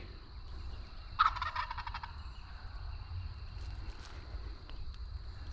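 A big bearded wild tom turkey in North Carolina lets out one loud rattling gobble at mid-distance, over steady wind and outdoor background noise, then a few fainter calls follow.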